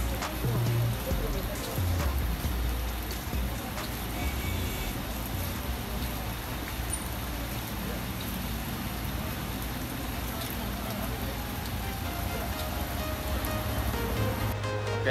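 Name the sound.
heavy rain at bus terminal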